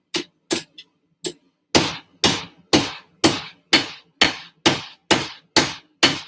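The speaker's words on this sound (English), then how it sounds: "Look at me, Ma. I'm forging. Yeah, it's hammer time." Hammer forging a cleaver, with about a dozen loud, sharp metallic strikes at a steady rhythm. A few lighter taps come at the start before the blows settle into an even pace, and the sound is close and free of talk.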